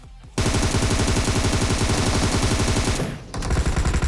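Rapid automatic gunfire in the mobile battle-royale game PUBG Mobile crackles in a dense sustained burst for about three seconds, pauses briefly, then resumes, loud and close with no talk.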